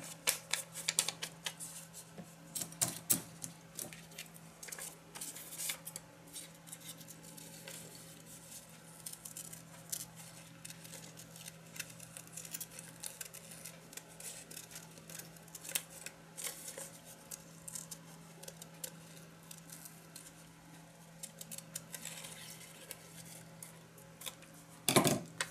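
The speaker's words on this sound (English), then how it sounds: "A little make-believe fussy cutting here." Scissors snip paper in fussy cutting for a junk journal, a long run of small, uneven crisp cuts close by, with a steady background hum and no talking.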